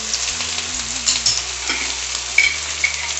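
Peanuts and banana pieces frying in a pan, a constant close sizzle with soft stirring scrapes and small pops, no voices.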